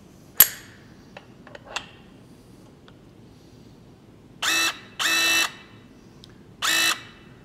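A MegaPress tool presses a 2 inch pipe fitting in three loud, short buzzing bursts, each under a second long, after some scattered clicks and handling knocks.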